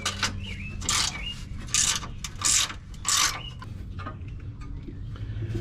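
Hand ratchet backing out 12 mm bolts during a skid plate installation on a 2020 Toyota 4Runner TRD Pro, heard as three or four short bursts of rapid clicking spaced about a second apart over a faint background hum, with no speech.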